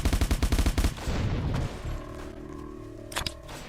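In the Roblox survival game The Apocalypse, a rapid burst of automatic gunfire hits dynamite, a fast string of loud shots that stops after about a second and leaves quieter game sounds and a few sharp clicks.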